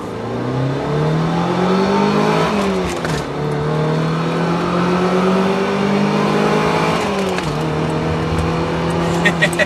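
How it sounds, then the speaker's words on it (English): A modified, high-mileage Mercedes 190E's high-revving four-cylinder engine climbs through the revs twice, each run rising in pitch with a brief dip at the shift, loud and close from inside the car. "Very easy rev match on this high revving 4-cylinder."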